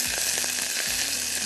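Sliced mushrooms drop into a hot pan for a Mediterranean chicken dish, setting off a loud, steady sizzle of frying with a couple of stirring clatters and no voice.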